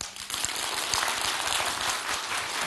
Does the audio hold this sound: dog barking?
no